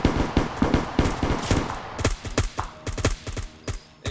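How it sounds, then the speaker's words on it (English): Return gunfire rings out in a PvP shooter battle on the Kamino firing range, with loud rapid bursts of automatic shots and single cracks in an uneven rhythm, close and sustained throughout, with no talking. "Flux is firing some return fire on him."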